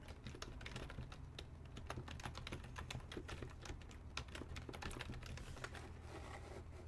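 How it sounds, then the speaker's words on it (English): Rapid, steady clicking of keys on a keyboard, continuous typing throughout against a low background hum. "Just the click-clacks of tippity typing"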